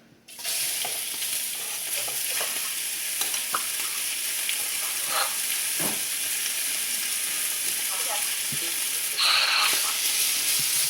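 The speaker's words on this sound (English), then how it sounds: "I heard some sizzling." Steady, loud sizzling of cut chicken stir-frying in a pan, a constant hiss with occasional crackles and a brief stir, no voices.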